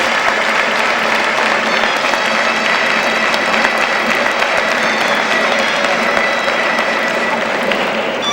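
An audience at a festival presentation of the Sants Joans festivities in Puçol, 2004, applauds loudly. The dense clapping goes on without a break for about eight seconds.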